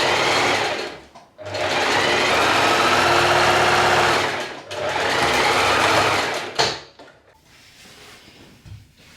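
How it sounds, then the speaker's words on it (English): A domestic sewing machine runs a straight stitch down a fabric channel on a gathered summer top, whirring loudly in two long, steady bursts with brief pauses between, then a short clack and quieter handling noise. "Now we're just going to do the same again and sew a straight stitch all the way down."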